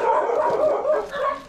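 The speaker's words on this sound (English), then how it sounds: "I guess this is someone not family coming because the dogs got a little bit angry." Several dogs bark angrily at an arriving visitor, a dense, continuous run of overlapping barks and yips held up close and loud for the whole stretch.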